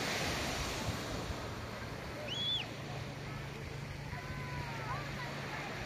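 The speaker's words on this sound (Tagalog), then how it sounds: "Ito yung dagat." Steady broadband wash of sea surf rolling onto the shore at Bislig Beach, Tanauan, Leyte, constant and fairly loud, with wind buffeting the microphone and a faint distant tone.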